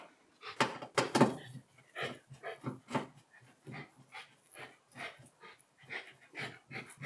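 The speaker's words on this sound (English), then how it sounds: "So if you hear any kind of heavy grunting in the videos, it's our little dog" A small dog grunts and snuffles in a series of short, breathy bursts, close by, with soft panting between them.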